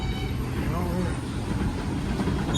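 A Manhattan subway train rumbles along toward Grand Central, a steady loud roar of wheels and car noise filling the space, with a faint high whine above it.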